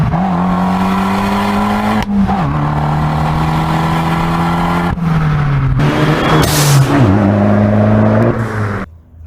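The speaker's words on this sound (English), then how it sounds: "You get to go through the gears, and that's the fun part." Sports car accelerating hard through the gears, its engine note rising steadily, then dropping at each upshift, several shifts in a row, loud and close with no talk.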